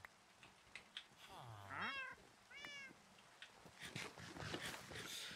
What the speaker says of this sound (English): let's stop attacking the cats